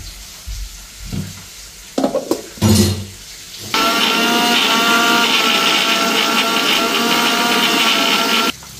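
Catla fish heads dropped into hot oil with onion, chilli and garlic, a few clattering stirs and then a loud, steady sizzle of frying that carries on for several seconds close up.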